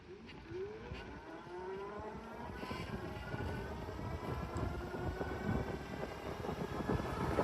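An Engwe Engine Pro 2.0 all-terrain e-bike motor accelerates on throttle from a standstill, its electric whine climbing steadily in pitch and growing louder over a rumbling ride noise.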